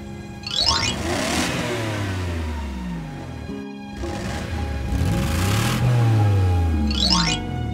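A cartoon Hummer engine revs up twice with rising, swooping pitch, loud and close, separated by a brief drop-off between the two surges.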